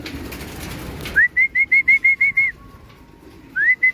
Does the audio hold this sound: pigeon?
yes